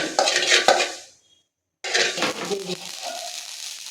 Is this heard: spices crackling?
yes